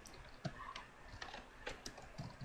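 Someone types on a computer keyboard with quiet, irregular keystroke clicks close by, and no voices are heard.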